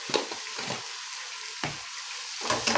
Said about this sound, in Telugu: వేసి బాగా ఫ్రై చేయాలి.